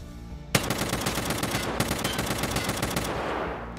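M1A rifle fired from a crouch in Escape From Tarkov: a loud opening shot, then a rapid run of sharp reports with echoing tails, a brief gap, a second burst, and a fading tail at the end.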